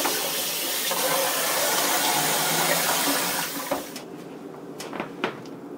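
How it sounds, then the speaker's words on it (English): Cold tap water runs steadily over boiled noodles in a sink, a continuous close splashing rush for several seconds before the flow stops, leaving a few soft drips and light knocks. "Give these noodles a quick rinse under cold water to stop the cooking and also to get rid of some of"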